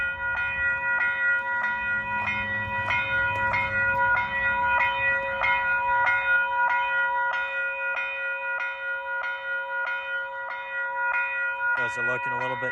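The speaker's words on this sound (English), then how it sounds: "Bell is ringing." A railroad pedestrian crossing signal bell, running on battery backup, rings in a fast, steady metallic rhythm close by, with some speech early on and a brief different tone at the end.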